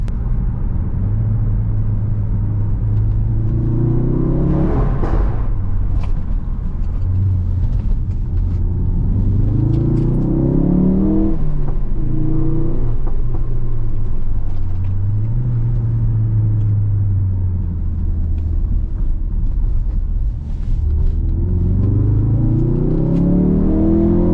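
A Ford Focus RS revs and accelerates up through its gears, a loud, steady engine rumble heard from inside the car, with rising and falling pitch sweeps as it shifts and no talking over it.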